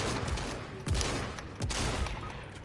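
Gunfire in a video game rings out as a dense spray of rapid shots with a few heavier bursts standing out, loud and continuous throughout, with no talk over it.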